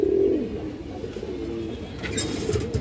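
A pair of pigeons coo close by, with a low, throaty rolling call repeating under soft background noise.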